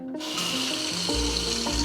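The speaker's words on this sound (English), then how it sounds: "I hate doing the dishes" Dishes being washed in a kitchen sink, with running water hissing steadily and dishes clinking and shifting, close and continuous with no talking.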